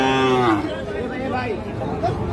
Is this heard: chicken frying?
no